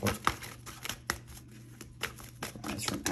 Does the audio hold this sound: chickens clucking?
no